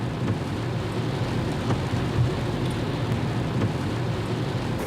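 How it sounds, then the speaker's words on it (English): Rain drums on the roof and glass of an electric car, heard from inside the cabin as a constant close patter and rush with occasional heavier taps, no speech. "I could hear the rain, actually."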